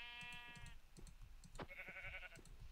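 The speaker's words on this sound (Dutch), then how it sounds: "Oh, een schaap." Sheep in the video game Minecraft bleat twice, two short nasal cries with a brief gap between them, over soft footsteps and game sounds.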